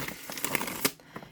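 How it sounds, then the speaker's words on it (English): A deck of tarot cards shuffled overhand, heard close up as a short, quiet burst of soft papery flicks and riffles. "I'm going to go ahead and take a minute here and just shuffle this."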